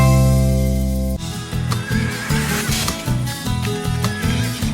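A Crioulo horse whinnies over a bed of music, its neigh rising clearly above a steady rhythmic backing with no voices present.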